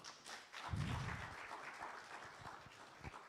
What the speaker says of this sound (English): Please give them another clap.